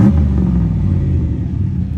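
A 1966 Ford Mustang engine revs loud and close, a heavy low rumble that holds steady for two seconds with slight rises and falls in pitch and no voices over it.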